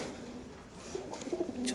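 Fancy pigeons at a large pigeon farm coo in soft, brief murmurs amid faint background chatter of the loft, the calls quiet and somewhat distant.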